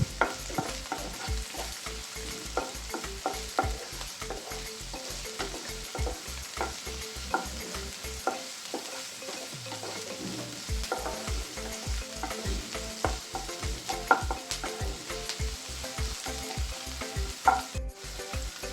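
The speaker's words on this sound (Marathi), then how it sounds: "कांद्याला ते इकडून तिकडून हलवत भाजून घेऊ." Onion and curry leaves frying in a pan with cumin, stirred briskly so a spatula scrapes in quick regular strokes over a continuous close sizzle, with a short pause in the middle and no talk.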